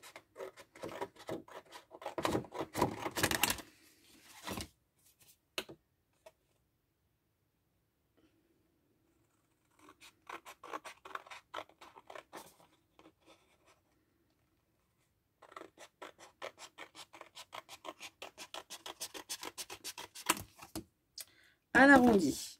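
Scissors snip through paper for a Christmas tree craft, close and crisp, in bursts of cutting strokes separated by quiet pauses and brief rustling.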